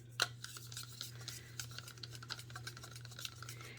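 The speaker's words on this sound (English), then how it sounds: "And I'm going to mix them together." Acrylic pouring paints being stirred together in a cup, giving soft, close scraping and rubbing strokes in an irregular rhythm over a low steady hum.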